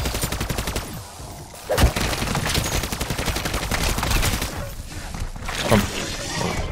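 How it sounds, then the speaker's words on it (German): Gunfire in a zombies mode of the shooter game Modern Warfare 3, with dense rapid shots and a few louder sharp cracks that stand out, all under a player's excited talk. "Von irgendwo kamen Sniper-Schüsse jetzt ganz."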